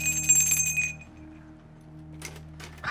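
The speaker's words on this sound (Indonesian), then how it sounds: "Ada lonceng ini." A small bell gives a brief bright ring at the start, then fades, leaving a steady low hum and a few faint knocks.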